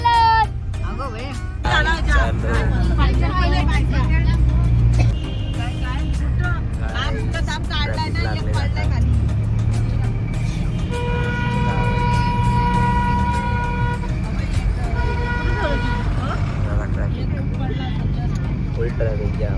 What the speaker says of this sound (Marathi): full traffic jam